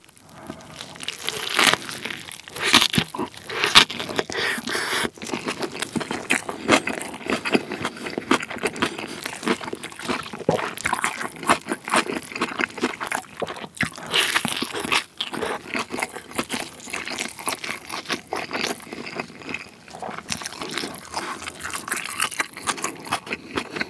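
Rice burger and spicy kimchi are eaten close to the mic, with continuous crunchy bites, wet chewing and crinkling wrapper noises in a steady irregular rhythm, and no talking.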